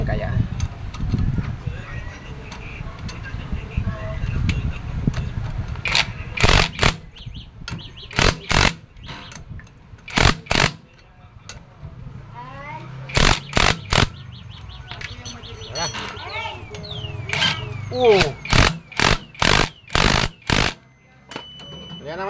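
Puller working loose a rusted, stuck brake drum on a 400cc e-bike, heard as a series of sharp, loud ratcheting or impact bursts in clusters over running machinery, with people talking throughout.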